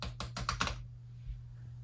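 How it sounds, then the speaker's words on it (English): A quick burst of about five keystrokes on a computer keyboard at a Mac mini M1 desk, faint and close, followed by quiet room hum with no talk. "I'm gonna type something"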